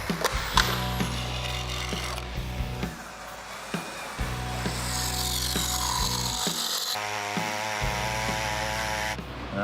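Saw cutting up a car dashboard to make it fit in a small custom car, with repeated rhythmic rasping strokes and pauses between bursts, close and fairly loud, no talking.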